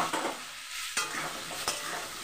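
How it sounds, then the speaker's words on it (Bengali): Fried potatoes stirred into a cooked paste of ginger, cumin and green chili, with a steady close sizzle broken by a few sharp scrapes of a spoon against the pan. "এবার এগুলোকে আমি নেড়ে চেড়ে নেব।"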